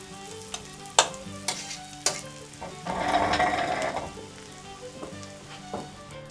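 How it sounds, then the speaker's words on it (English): Onions sizzle and fry in butter in a pan, with a steady crackle swelling in the middle and occasional clinks and stirring knocks around it. "While our onions are browning"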